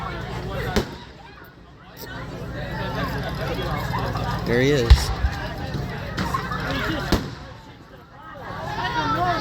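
Carnival fireworks on the event's final night burst in a few sharp, scattered booms of uneven spacing, heard amid steady outdoor crowd noise and nearby people chatting.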